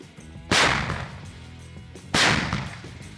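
Two heavy tank gun blasts about a second and a half apart at a training range, each a sharp, loud crack followed by a long rumbling decay.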